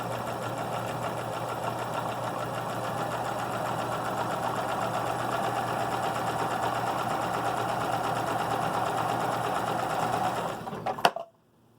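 A sewing machine stitches a fabric face mask on a V stitch, whirring steadily and evenly for about eleven seconds before stopping abruptly.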